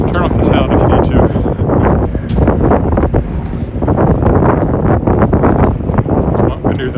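Heavy wind buffeting a microphone on a walk outdoors in Regina's Lakeview neighbourhood, loud constant rumbling gusts that nearly swamp a person talking underneath.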